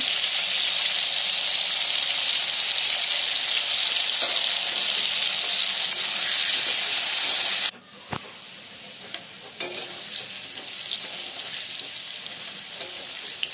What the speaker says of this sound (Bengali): আলুগুলো একটু ভালোভাবে ভেজে নেব